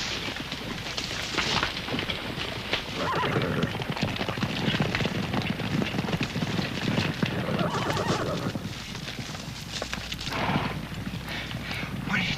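A horse neighing loudly and repeatedly while its hooves clip-clop without pause in a 1974 western scene, the whole sound dense and close.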